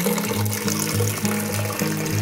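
Water splashes and gurgles steadily into a container as it is stored during an intermittent supply, a close, continuous pouring rush with rhythmic low thumps, no voices.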